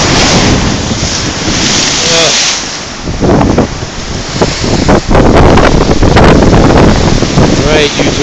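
Violent storm surf during Superstorm Sandy, with water thrown well over six feet into the air against a wall; loud crashing waves and heavy wind buffeting the microphone in continuous, surging roars.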